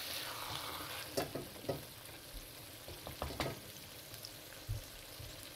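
Lamb meat curry sizzles steadily in oil in a pan while being stirred, with several sharp scraping knocks of the spoon standing out over a constant frying hiss.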